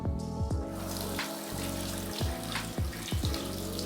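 Warm water runs steadily from a tap, heating a spray bottle of hair ampoule product, with a continuous close splashing flow broken by a few brief pulses.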